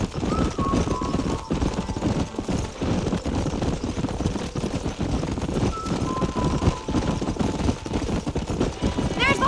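Horses galloping in the Red Dead Redemption video game, a dense rolling clatter of hooves running steadily throughout with people talking over it.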